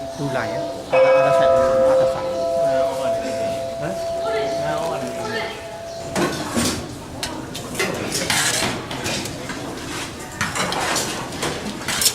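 A monastery bell in Bago, Myanmar rings to call novice monks to their meal, a clear tone ringing out early and then giving way to clattering dishes, cutlery and footsteps, with someone talking nearby.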